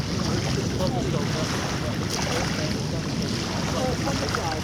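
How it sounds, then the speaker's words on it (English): A short ferry crossing on open water between Mersea and Brightlingsea, with loud, steady wind buffeting the microphone over the low rumble of the boat and sea, continuous throughout. "just 9-minute ferry ride"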